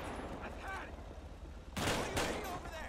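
Police shootout gunfire in the GTA 5 video game, a burst of loud shots arriving late in the clip after a stretch of talk and game noise, with speech nearby.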